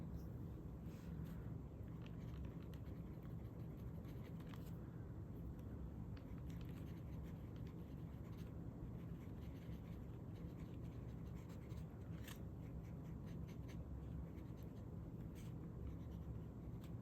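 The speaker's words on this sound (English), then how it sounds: "let's do a little writing sample" Pen nib scratching across paper while writing out a sample of blue fountain pen ink, a steady close-up scratching under a constant low background hum with no talk.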